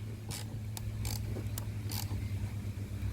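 Cap screws and nuts being tightened to mount a Bocashade onto a boat hardtop with a backing plate, giving a few short creaking, ratcheting bursts over a low steady hum.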